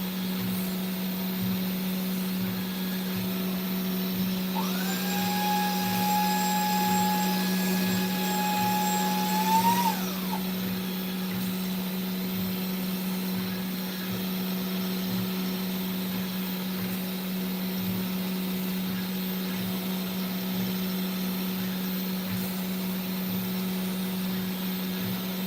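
A TwoTrees 450 Ultra CNC machine carves gypsum miniatures with a steady mechanical hum and motor whine. A rising, falling spindle tone cuts through for a few seconds early on, then the drone continues evenly and close up.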